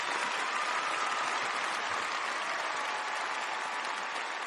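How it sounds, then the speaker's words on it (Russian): Audience applauding at a Russian music award ceremony, a steady, even roar of many hands clapping at once, sustained at constant loudness throughout. "Аплодисменты, друзья!"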